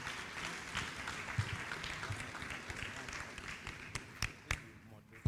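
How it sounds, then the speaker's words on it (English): Audience applause fills a hall at an event, a steady wash of clapping from a crowd, with a few sharper isolated claps standing out near the end. "Give him a round of applause, please."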